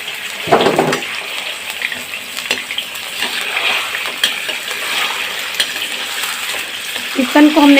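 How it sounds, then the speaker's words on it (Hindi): Pieces of chicken sizzle and fry in hot ghee in a Pakistani creamy chicken dish, with a steady close crackle, stirring clatter at the start and a brief sharper spit near the end. "सबसे पहले हम चिकन को फ्राई करेंगे"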